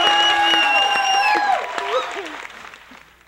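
A crowd applauds beneath loud whoops and shouting voices, the clapping and cheering fading toward the end.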